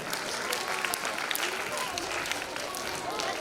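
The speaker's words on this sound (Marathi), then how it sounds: "जोरदार टाळ्या वाजवून स्वागत करूया" An audience at a school comedy skit performance claps enthusiastically, a dense, continuous patter of many hands at steady loudness throughout.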